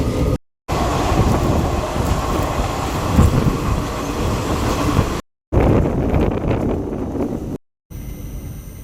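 The Narasapuram–Arunachalam special train runs steadily over the tracks with a loud, continuous rumble and faint clatter, broken by brief dropouts, with wind buffeting the microphone.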